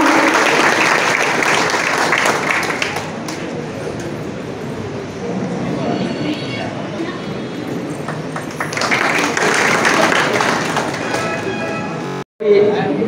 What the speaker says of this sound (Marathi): जोरदार टाळ्या जोरात.